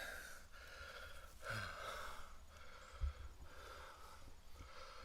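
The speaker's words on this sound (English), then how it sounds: "You can hear me huffing and puffing. I'm catching my breath." Heavy huffing and puffing breaths from a person catching their breath after working a bow drill to make fire, repeated rhythmic exhales and gasps close to the mic with no talking.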